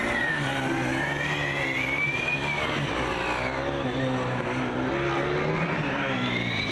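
Formula Student race cars run their endurance event laps, engines whining and sweeping up and down in pitch as they pass, a continuous loud drone of overlapping motors with no voices.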